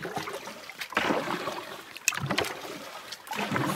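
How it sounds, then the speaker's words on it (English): Canoe pushing through a strong, deep river current, water sloshing and trickling around the hull in uneven bursts with small knocks, fairly close, no talking. "This current is really strong and the water is really deep."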